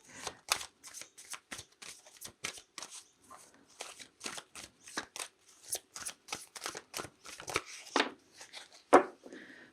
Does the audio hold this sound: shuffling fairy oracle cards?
yes